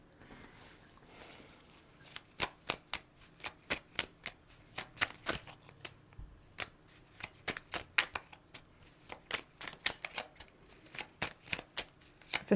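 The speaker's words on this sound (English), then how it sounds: "So now we're going to move on to doing a few tarot cards." Tarot cards are shuffled by hand in a run of crisp, rapid riffles and snaps, each a sharp burst, repeated in an irregular but steady rhythm, close and fairly soft, with no talking.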